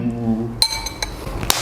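Glasses clinking together in a toast at a meal, several sharp bright clinks in quick succession that follow a moment of voices talking.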